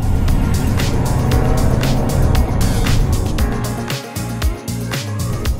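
A 2021 Volvo V60 driving in dynamic mode with 400 Nm of torque, giving a loud, continuous engine and road roar with pulsing surges and a brief dip before building again.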